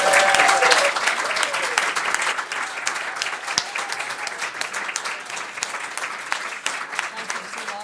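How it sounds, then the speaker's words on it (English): A conference audience applauds steadily for several seconds after a panel event, dense clapping that stays loud before tapering slightly, with a brief voice at the start. "can I first of all have a huge round of applause from Susan, Sarah and Dee"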